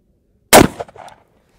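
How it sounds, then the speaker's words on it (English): A single loud, close gunshot striking a Mira Safety level 4 body armor plate: one sharp crack, then a brief rattling decay fading into silence. "this will be the last round we shoot at it"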